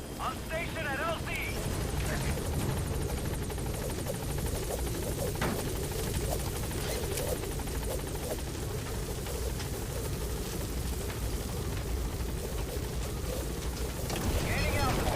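Pequod helicopter in Metal Gear Solid V, its rotor and engine roar arriving at a landing zone, a steady loud drone throughout with a voice speaking over it.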